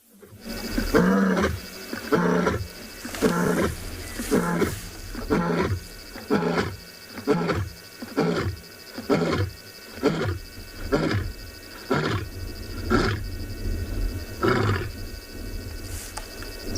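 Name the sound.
lioness roaring to call her pride on safari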